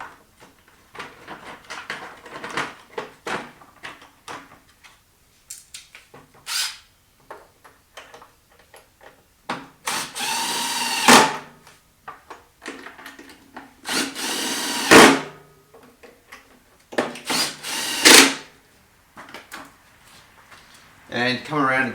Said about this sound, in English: We get those screws in.